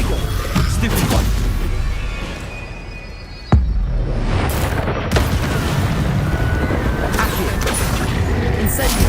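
Confringo blasting spell in a Wizarding World video game: a loud, close explosive boom with a sharp crack partway through, over dense continuous rumble and crackle from combat.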